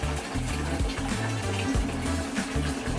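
Water runs from a coin-operated bucket water vending machine, a continuous gushing pour with a low, irregular bubbling rumble as it fills.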